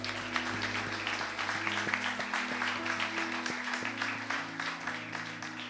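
A church congregation claps and cheers to acclaim the Lord, with a continuous ragged round of applause over sustained organ or keyboard tones.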